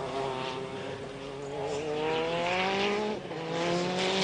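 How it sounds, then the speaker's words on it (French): The number 1 Toyota race car at Le Mans in 1994 howls past with a high engine note that climbs, dips briefly at a gearshift, and climbs again, loud and continuous. "Retour au Mans avec le leader de cette édition à 94, la Toyota numéro 1 de Eddie Irvine, Mauro Martini et James Krosnoff"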